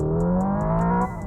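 A Hyundai Ioniq 5 N plays its artificial engine sound under acceleration, a steady synthetic engine note climbing slightly in pitch for about a second, then a brief dip like a simulated gear change.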